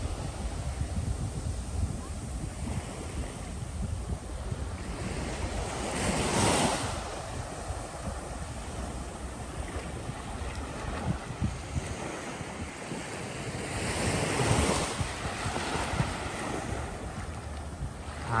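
Ocean surf at Praia da Saudade beach in Penha, Santa Catarina, Brazil: a steady wash of breaking waves with two louder swells, heavy wind buffeting the microphone throughout.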